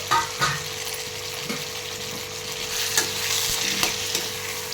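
Chopped cucumber and tomato cook in a pan for chutney, a steady bright sizzle with occasional stirring scrapes and taps, close and continuous with no talk.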